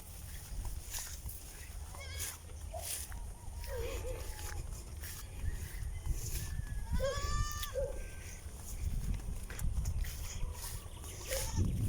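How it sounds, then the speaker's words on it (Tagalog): Several goats bleat intermittently at moderate distance, their wavering calls rising over faint outdoor background noise, with a person speaking softly. "Kambing ni Ken, no?"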